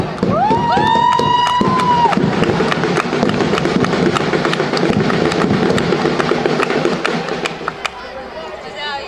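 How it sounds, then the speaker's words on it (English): An audience at a school annual sports day prize announcement breaks into applause and cheering, a broad wash of clapping and crowd noise with a voice over a microphone near the start. "A big round of applause, audience"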